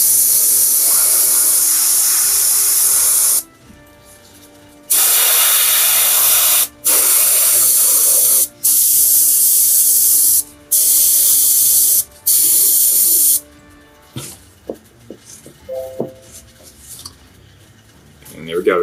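An airbrush sprays paint onto a miniature fallen pillar model in several loud hissing bursts of about one to two seconds each, separated by short pauses, followed by faint clicks and handling sounds.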